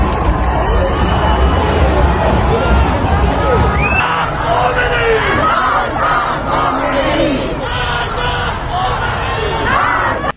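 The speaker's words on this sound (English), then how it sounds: "huge crowds chanting death to the dictator and government buildings on fire" Huge crowds at an Iran protest chant loudly and rhythmically, a dense roar of many voices filling the whole stretch, with a sharp change in the sound partway through.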